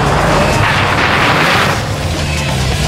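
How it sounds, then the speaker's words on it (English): Rally car engine on a dirt stage, loud and continuous, with heavy popping and banging bursts like rifle fire layered over the steady roar throughout. "hear the engine popping and banging like rifle fire"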